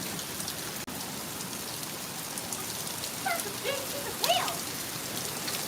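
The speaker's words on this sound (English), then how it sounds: "The hail is not that large, like I said." Small hail patters steadily and densely outdoors during a severe thunderstorm, a constant even hiss with a few louder ticks, and faint voices come in briefly near the end.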